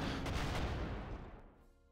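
Bombing strike on Nebelwerfer rocket launchers in the Panzer Corps wargame: a dense, rumbling burst of explosions and gunfire that holds loud for about a second and then decays into a fading tail.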